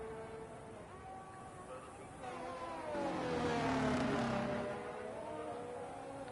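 Race car engines drone and swell in a sim racing game on a Saudi Arabia circuit, a steady whine rising to a louder pass around mid-clip before easing back, with commentary voices over the top.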